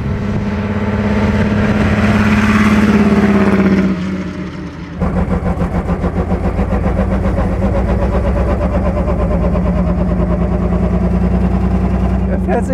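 Supercharged 1929 Mercedes-Benz SSK with a 7.1-litre engine runs loudly up close, a deep steady rumble that dips briefly and then comes back with a throbbing drone, with people talking over it.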